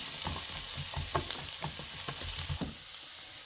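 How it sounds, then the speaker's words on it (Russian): Steady crackling sizzle of onion and carrot frying in a pan, with a few soft scraping stirs, continuous and fairly close. "И снова все вместе обжариваем."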